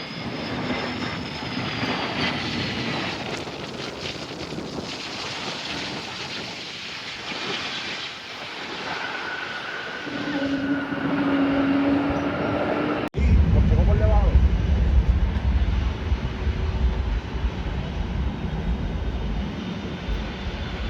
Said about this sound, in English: over here we got this JetBlue A320 coming in from Norfolk